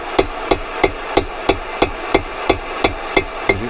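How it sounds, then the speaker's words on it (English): Steady hammer taps drive a part into a Suzuki T500R motorcycle during restoration, about eleven evenly spaced light metallic knocks at roughly three per second, close and clear with no talking. "Just keep tapping this in slowly"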